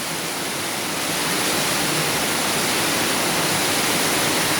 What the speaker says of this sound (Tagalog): Nasa 10 minutes nang umulan.